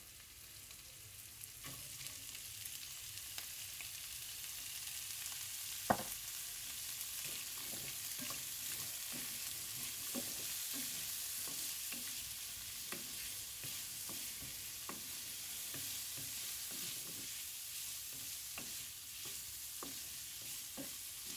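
Shrimp and frozen mixed vegetables fry in a pan for shrimp fried rice, making a faint, steady hiss that is broken by scattered spatula taps and scrapes of stirring, with no talking.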